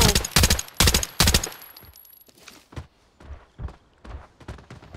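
Bursts of automatic gunfire in the shooter game Arena Breakout, three loud close volleys in the first two seconds, then a run of quieter, more distant shots spaced out with no one talking.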